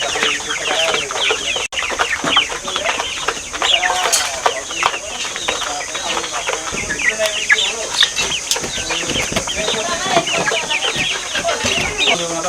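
BAU breed chickens on a farm in Satkhira cluck and chatter continuously, many birds close together in a dense flock, with a faint human voice mixed in underneath.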